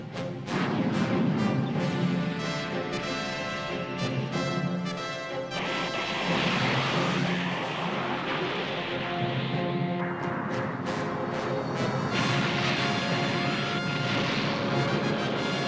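In an anime, a space colony crashes onto Earth with a huge sustained roar of rumbling impacts and crashing debris, dense and loud throughout, surging again partway through as dramatic music plays along.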